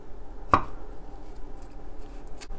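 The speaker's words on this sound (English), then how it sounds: "just chop this all up" Garlic cloves chopped with a knife on a cutting board, two sharp isolated chops about two seconds apart, close, the first stronger, over faint kitchen background.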